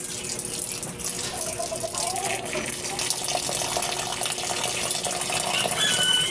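Water pours steadily onto freshly planted Chinese kangkong, a continuous splashing gush that holds an even level throughout, with faint background sounds around it.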